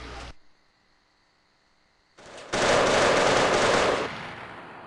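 Loud, sustained automatic gunfire from a video game firefight, a brief burst at the start, then a near-continuous roaring volley lasting about two seconds that tapers off at the end.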